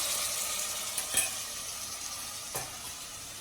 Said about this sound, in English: pre-boiled gadra beans, and then stir it